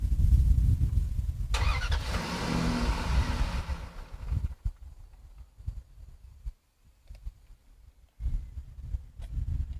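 A 4.7 liter V8 cranks and catches on a lithium jump starter, a short whirring start that fades into a quiet idle punctuated by soft knocks and clicks.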